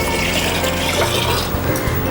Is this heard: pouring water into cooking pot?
yes